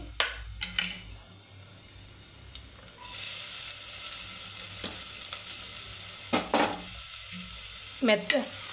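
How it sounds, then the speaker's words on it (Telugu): Green chillies and onions sizzle softly in a pan as pasta is prepared, a steady frying hiss broken by a few sharp clinks and scrapes of a spoon stirring. "పచ్చిమిరపకాయ ముక్కలండి వేగాలండి"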